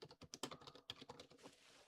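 Rapid clatter of keys on a computer keyboard, typed in quick uneven bursts close by, with a brief louder tap midway and a softer faint hiss toward the end.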